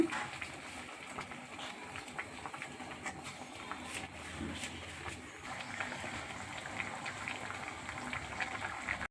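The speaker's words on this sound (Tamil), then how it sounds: "நல்லா கொதிக்குதுங்க மட்டன் குழம்பு." Quiet, steady bubbling and popping of a pot of mutton curry simmering on the stove, a soft continuous patter without any talking.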